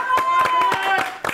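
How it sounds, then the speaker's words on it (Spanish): An audience applauds a singer with steady, rhythmic group clapping. A person speaks over the claps, and a sustained tone runs underneath. "Así que otro aplauso."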